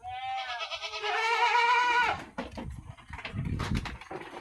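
Hungry goats bleat at feeding time inside a goat house, one long loud wavering cry first, then a busier mix of shorter bleats and shuffling, all close.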